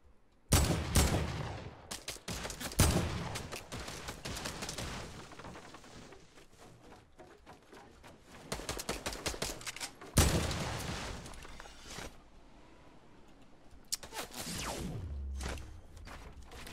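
Rapid full-auto gunfire sprays in a Fortnite-style video game, several loud bursts separated by gaps, with quieter footsteps and game noise in between.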